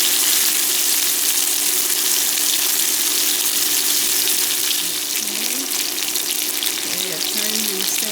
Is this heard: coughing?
no